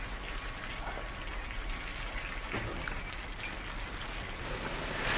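Heavy monsoon rain pours steadily in Rajasthan, a dense, unbroken wash of hiss and splatter that stays loud and even throughout, with no voices.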